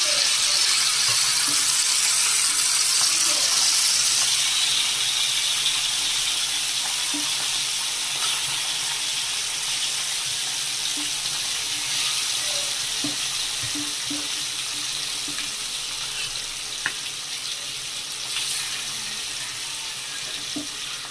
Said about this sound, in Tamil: எண்ணெய் சூடாயிடுச்சு, இப்போ மீன் போட்டுக்கலாம்.